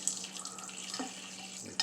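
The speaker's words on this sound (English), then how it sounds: "just trickle the water so it's not splashing all over the place, right?" Tap water trickles gently into a kitchen sink as raw chicken is rinsed, a faint steady stream with small splashes and a brief louder splash at the end.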